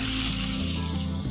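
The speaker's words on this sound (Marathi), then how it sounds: "तेलामध्ये छान असा कांदा भाजून घ्यायचा" Onion sizzles and crackles in hot oil, a short continuous frying hiss heard up close with no talking.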